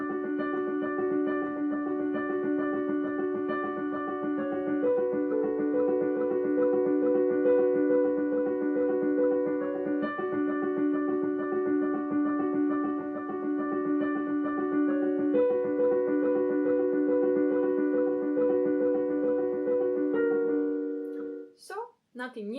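Piano right hand plays steady repeated triad patterns from a piano piece, a continuous even flow of chords at moderate volume, unaccompanied, ending with a brief shuffle.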